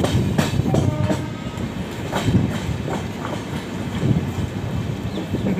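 Passenger train running fast on rails from Delhi toward Amritsar while overtaking another train, with a continuous clattering rumble and regular clickety-clack from the wheels.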